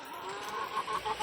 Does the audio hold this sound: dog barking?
no